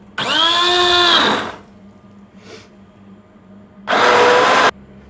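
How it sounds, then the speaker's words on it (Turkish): An immersion blender whirs at high speed while pureeing tomato soup in a large pot, a loud, close motor whine that rises in pitch, stops, then returns for a shorter second burst. "Şimdi blenderdan geçireceğiz bunu."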